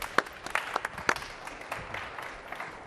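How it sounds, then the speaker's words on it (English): Light, scattered clapping from an audience at a Formnext morning talk as the Messe Frankfurt president is welcomed on stage, a handful of separate claps spread thinly over a quiet room. "I would also like to ask Petra Harburger, President of Messe Frankfurt, on stage with an applause"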